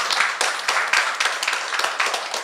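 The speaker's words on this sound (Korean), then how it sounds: "우리 하나님께 영광의 박수 돌리겠습니다." Church congregation clapping together after the pastor calls for applause during a Sunday service, a steady patter of many hands at moderate distance, continuous for a couple of seconds with no speech over it.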